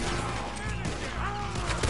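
Gunfire from a shootout in the video game Red Dead Redemption 2, a steady wash of overlapping shots and game noise throughout, fairly loud and continuous.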